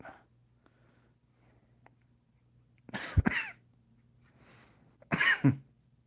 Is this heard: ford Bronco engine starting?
no